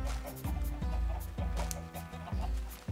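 Chickens on a Minecraft chicken farm with a water basin cluck in short, repeated bursts, several blocky game-style clucks close and clear over a low steady background, with a few soft thumps mixed in.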